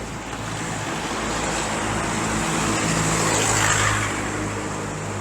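Strong wind roars continuously across an open property, a loud, dense broadband rush that swells slightly in the middle and buffets a nearby microphone, with no talk.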